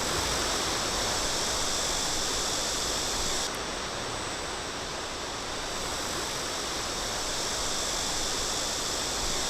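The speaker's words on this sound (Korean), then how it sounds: "바로 원골 인공 폭포인데요." Steady, full roar of an 80 m tall artificial waterfall in Geumsan, South Korea, pouring nonstop, broadband rushing water close by with no pauses or voices.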